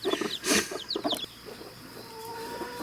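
Chickens cluck and chirp close by in quick bursts, the sounds thinning out over a steady background hum.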